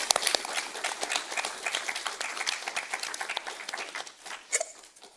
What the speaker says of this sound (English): can we give a round of applause for that spectacular film?